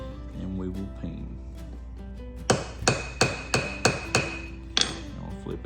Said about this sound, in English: we're gonna start our peening, and I start on the butt end